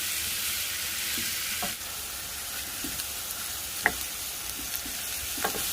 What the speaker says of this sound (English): saute until the onions are translucent